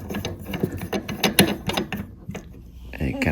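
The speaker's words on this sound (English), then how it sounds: "Okay, so we're just tightening up the nuts below." Nuts being tightened under a laundry sink faucet: a close ratcheting tool gives irregular metallic clicks and turns for a few seconds, and a faint voice comes in near the end.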